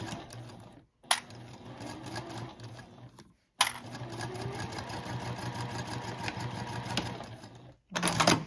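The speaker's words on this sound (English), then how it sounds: "Back stitch." A sewing machine runs in short bursts while back stitching the corner of a fabric bag, a fast mechanical whir and clatter separated by brief pauses, close and steady.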